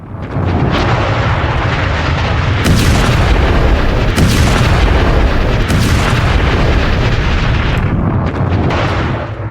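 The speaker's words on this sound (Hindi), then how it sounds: "वहां बारूद बिछाया और उसे उड़ा दिया।" Explosives blow up an underground Hezbollah tunnel in one loud, sustained roaring blast that rumbles on for several seconds and then fades, with no voices.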